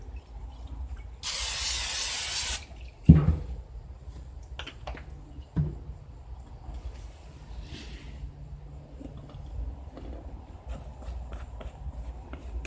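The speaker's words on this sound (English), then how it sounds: "the first thing we should do is take and spray this pan" A short burst of cooking spray hisses for about a second onto a cornbread pan, followed by light knocks and clatter of the pan being handled nearby.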